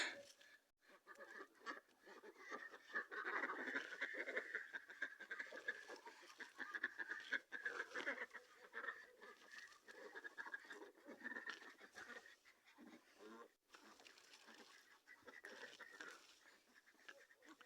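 A group of ducks, with a drake among them, quacks and chatters in faint, continuous outdoor calls, overlapping and distant, with brief scratchy noises in between.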